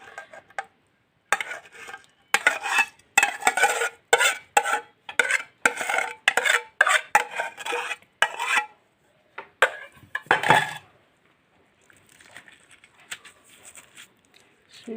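Cookie dough being mixed by hand with butter, yeast and sugar in a bowl, giving a rapid series of close, sticky slaps and scrapes in bursts, then quieter stirring and brief pauses.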